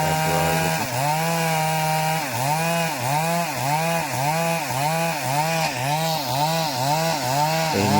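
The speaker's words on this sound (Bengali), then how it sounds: "এই মেশিন দিয়ে কাঠগুলো যে কোনো জায়গায় চিরা যায় খুব সহজে।" A chainsaw cuts through tree wood, its engine droning loud and close and bogging down in a regular rise-and-fall rhythm with each pass through the cut.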